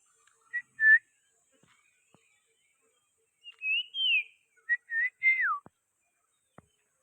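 A rare bird calls close by in a Konkan village, giving several short whistled chirps and one longer sliding whistle in two separate bursts, clear against an otherwise quiet background.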